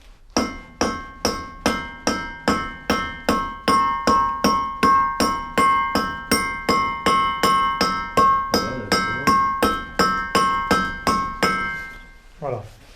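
Stone facing dressed by hand with a toothed laye, a stonemason's axe: about thirty sharp, evenly spaced ringing strikes in a steady rhythm, close and loud, ending with a brief scrape.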